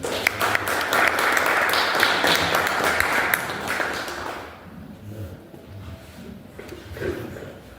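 An audience at a book presentation applauds in a dense burst of clapping that fades out after about four seconds, leaving quiet room sound with scattered faint taps.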